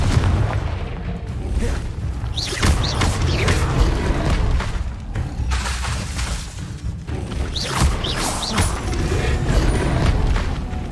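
Fiery Confringo spell blasts from a wizarding video game, booming bursts mixed with crackling magical effects and mechanical clatter, repeating over a dense, loud game soundscape with no talk.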